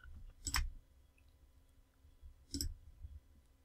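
Two crisp computer mouse clicks about two seconds apart sound against a quiet room background, close and distinct, with no talking.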